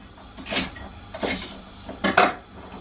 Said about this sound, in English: Literally just chopping them down.